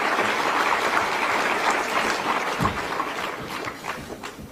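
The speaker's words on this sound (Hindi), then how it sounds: "एक बार जोरदार ताली।" Applause from a crowd at a public event in Delhi, a continuous broad patter of clapping that stays steady and moderately loud, thinning slightly toward the end.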